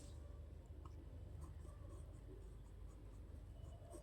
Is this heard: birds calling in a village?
no